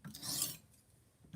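A Tech Studios profile knife sharpener draws a stone across a kitchen knife blade, giving one loud, close rasping stroke, then a quiet pause and a brief softer scrape at the end.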